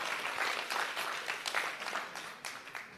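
Audience applause at a Frisian poetry gathering, a steady patter of many hands clapping at a moderate distance, fairly soft and without voices.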